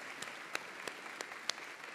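Applause at a university commencement ceremony, heard as a soft, distant patter of scattered clapping with a few sharper claps standing out.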